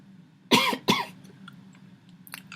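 Two sharp coughs close together near the microphone, followed by quiet room noise and a few faint clicks.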